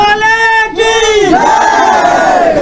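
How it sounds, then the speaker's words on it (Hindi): Devotees at the Sakal Narayan cave in Bijapur raise a loud, sustained crowd cry, the voices rising and sliding together in a steady chant of praise that fills the whole span. "भक्तों की जयकार।"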